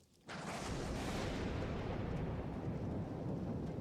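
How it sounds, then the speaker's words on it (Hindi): A thunderstorm effect in a horror audio drama: after a short quiet moment, thunder cracks and then rolls into a loud, sustained, deep rumble of storm noise that fills the rest of the clip. "आसमान में तेज बिजली चमकी और चारों तरफ एक तूफान उठने लगा।"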